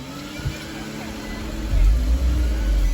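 A 2011 Nissan Altima's engine starts, the low rumble swelling in the second half into a steady close idle, with a voice talking over it.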